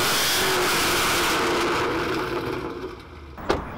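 A Ford Mustang's engine runs in a steady, loud rumble throughout. It eases slightly toward the end, then gives one short, sharp burst.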